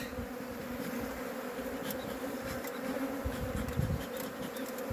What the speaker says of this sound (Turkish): tabii arı biraz agresif